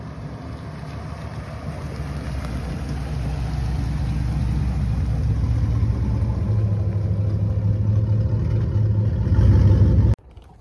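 A dirty truck engine arrives with a loud, steady low rumble that builds over about ten seconds and then cuts off abruptly near the end.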